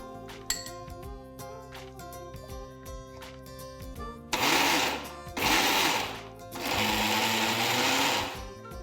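A mixer grinder blending fresh coconut, green chillies and garlic cloves, loud whirring bursts alternating with short pauses, and a steady mechanical drone beneath.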